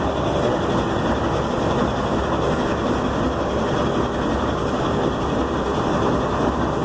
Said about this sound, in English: watch these engines as they roll along with their day and business